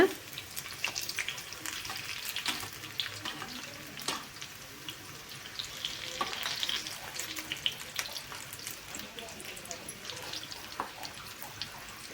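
Cauliflower pieces deep-frying in oil, a soft continuous bubbling sizzle with small crackles and pops, fairly faint and close.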